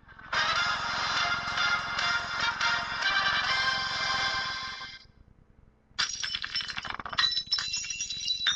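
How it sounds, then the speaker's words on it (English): A loud, buzzing electronic phone ringtone plays close up for several seconds, stops briefly, then resumes with a jangling tone. "Your cell phone is actually ringing."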